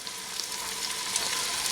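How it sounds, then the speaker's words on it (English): Close, steady sizzling of pork frying in a pot for pork chili verde, a dense crackling hiss with small pops throughout. "You can hear it start to sizzle now."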